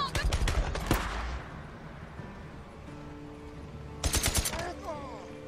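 Gunfire in the open-world game Days Gone: two loud bursts of rapid shots, one at the start and another about four seconds later, with a low rumbling game ambience and a speaking voice in the quieter stretch between them.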